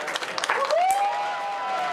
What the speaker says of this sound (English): Cheering and hugging overnight